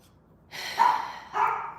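A dog on a homestead barks twice in quick succession, moderately close and fairly loud, against a quiet background with no talking.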